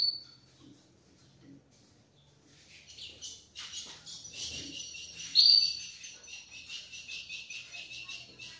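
Ultramarine grosbeaks (azulão) give short, high chirps and then a brighter run of fluttering calls, close and clear, with soft handling noises in the background.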